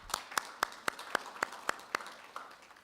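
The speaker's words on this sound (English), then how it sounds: "A round of applause, please." Sparse, slow applause from a conference audience at a Eurasian Development Bank session on Central Asia partnerships: about eleven distinct claps at an even rhythm, fairly quiet and close, with no talk.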